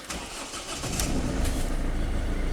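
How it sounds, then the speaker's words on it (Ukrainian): A car engine, likely on a Renault Master van or an Audi A6 under repair, cranks briefly and catches, then settles into a steady mid-pitched idle close by with no talking. "Але автомобіль запускається"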